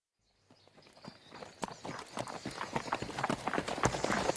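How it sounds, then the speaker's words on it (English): Horses walking on hard ground, hooves clip-clopping in a steady overlapping rhythm that starts after a brief silence and gradually grows louder as they approach, with no talk. "When Hercules brings the horses back to Eurystheus's palace, they look hungrily at the king."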